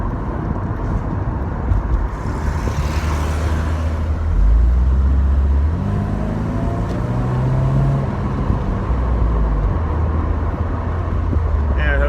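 Mercedes SLK driving on the road, a steady loud engine drone with road and wind rush, the engine pitch rising through gear changes over about twelve seconds.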